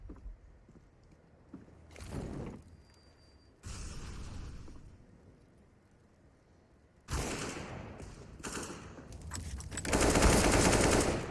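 Rapid automatic gunfire bursts and shots in a CS:GO match on the Vertigo map, loud clustered volleys separated by quieter gaps, ending in a dense sustained barrage.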